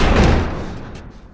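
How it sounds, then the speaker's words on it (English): In The Last of Us, a door slams shut with a heavy, close thud right at the start while it is being barricaded. The boom then fades into a short rumbling decay. "Barricade the door."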